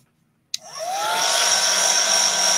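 A hair dryer blasts lace dry, clicking on after a short silence, then spinning up into a loud, steady whooshing roar with a whining tone that holds close and constant to the end.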